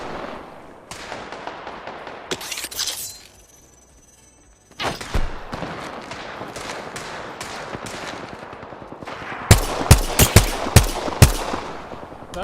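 Automatic gunfire in Apex Legends crackles in repeated bursts, with a brief lull midway, then a string of sharp, loud, close shots near the end.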